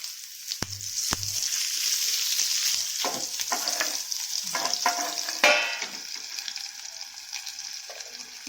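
Bitter gourd (karela) fries in oil on a tawa with a loud, continuous close-up sizzle, punctuated by spatula taps and scrapes and a brief surge of hissing midway.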